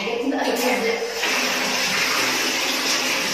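Water rushes out of a jacuzzi as it drains, a loud continuous gushing flow that stays steady throughout with no voices.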